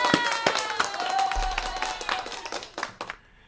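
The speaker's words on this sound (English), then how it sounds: "and a nice round of applause." A small audience claps at an event, the scattered, distinct hand claps close and uneven before thinning out and stopping, with faint voices mixed in.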